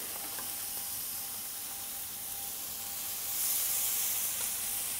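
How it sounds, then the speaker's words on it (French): Small vegetables cook on a hot plancha beside tandoori poultry, making a soft, even, continuous sizzle that swells slightly louder near the end, with no talk. "je vais commencer à mettre à cuire mes petits légumes à côté"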